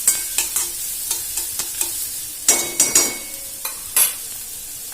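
Onions frying in a pan for pav bhaji, a steady bright sizzle broken by repeated sharp scrapes and clacks of a spoon stirring, close and fairly loud, with no voices.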